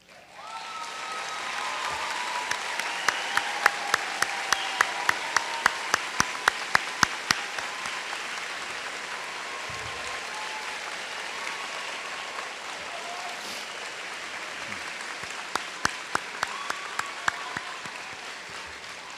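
A high school awards ceremony audience applauding armed forces members, sustained clapping from a large crowd, with sharp close claps standing out near the start and again toward the end.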